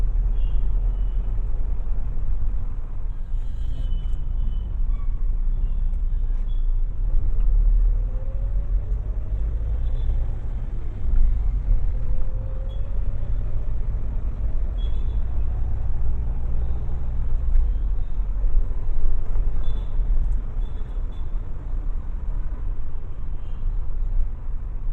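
Steady low road rumble of moderate traffic heard from inside a car near PSG College, with passing vehicles blending into a continuous hum and occasional faint higher tones, no voices.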